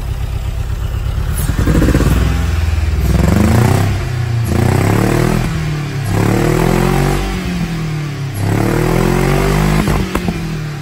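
Car engine running after its exhaust leaks were repaired: loud, close revving in repeated swells, each rising pitch then falling back to a rumbling idle, with some mechanical clatter between blips.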